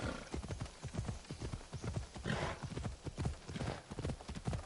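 Horse hooves galloping in the Assassin's Creed Odyssey video game, a quick rhythmic clip-clop of repeated beats throughout, fairly quiet, with a brief whinny-like sound mixed in.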